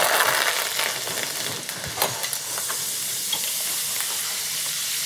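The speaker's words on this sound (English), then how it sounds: "we're going to fry those until they're nice and crispy" Parsnips frying in hot oil, a dense steady sizzle with bright crackling sputters, close and loud throughout, with a brief stirring clatter partway through.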